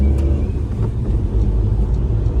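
A Maruti Alto 800 engine heard from inside the closed cabin after its first service, a loud, steady low drone and rumble running throughout.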